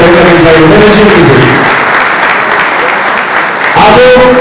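An audience breaks into sustained clapping at an event honouring an athletics team leader, a dense wash of applause with a voice speaking over its start and end.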